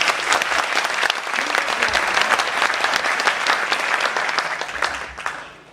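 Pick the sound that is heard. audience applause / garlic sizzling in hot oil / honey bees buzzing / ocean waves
audience applause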